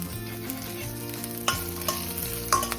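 Garlic and green chillies fry in a pan for a sesame powder and drumstick leaf curry, a steady close sizzle broken by a few scraping stirs and soft clinks of the spoon.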